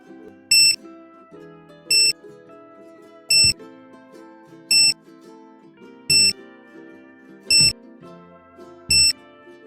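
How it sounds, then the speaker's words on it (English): A Crypt Key encryption system receiver in programming mode beeps seven times at a steady, even pace over a low background hum, each beep short and bright. "Hold down the Learn Code button until the receiver has beeped 7 times."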